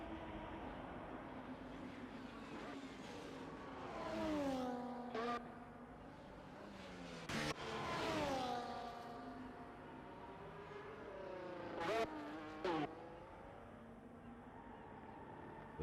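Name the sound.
F1 race cars at Abu Dhabi, from a video game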